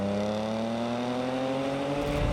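A supercharged V6 in an Audi S4 drones steadily from inside the car, its engine note climbing slowly as the car accelerates, loud and continuous with no talking.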